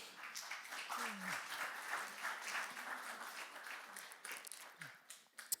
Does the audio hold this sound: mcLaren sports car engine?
no